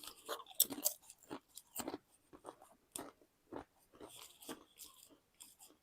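ASDA supermarket crisps are bitten and crunched close to the microphone, with a series of loud, crisp crunches in an irregular chewing rhythm and quiet gaps between bites.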